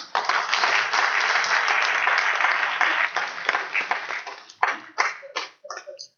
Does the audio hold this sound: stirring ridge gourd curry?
no